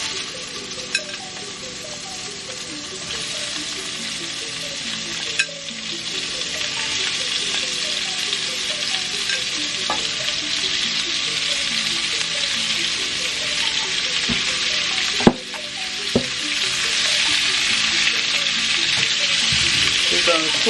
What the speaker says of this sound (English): Okay, so now in the same pan, I'm going to add my onions and peppers.